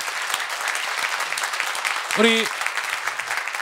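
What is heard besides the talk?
audience applause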